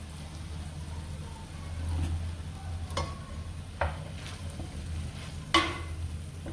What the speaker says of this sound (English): Let it simmer in the milk while we mix the dough.